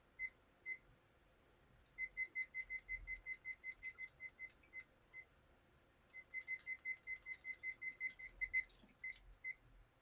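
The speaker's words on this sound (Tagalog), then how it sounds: "Gamitin natin yung timer ni Mrs." A kitchen timer with a battery being set and operated, a faint series of rapid electronic beeps in two long trains with a few single beeps around them, close by in a quiet room.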